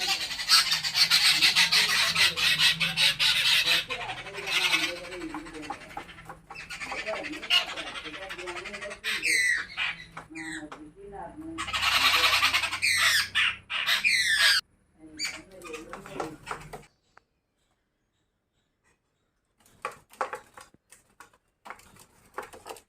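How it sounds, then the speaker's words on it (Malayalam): Birds squawking and calling in the morning beside a pond, with bursts of harsh, repeated calls over steady background noise, then a stretch of near silence and a few faint, scattered chirps at the end. "ഇവിടെ ഇന്ന് രാവിലെ ആകുമ്പോഴേ കിളികളുടെ ചില കലാപരിപാടികൾ ഇങ്ങോട്ട് കാണിച്ചു"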